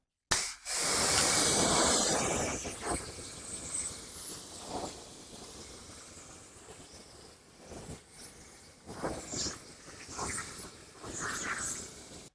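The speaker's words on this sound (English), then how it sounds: "go ahead and rinse off thoroughly again" A water spray rinses the lower panels of a car during a detailing wash after a Koch Chemie Green Star pre-treatment, a loud steady hiss at first that settles into a softer, uneven spray with brief bursts.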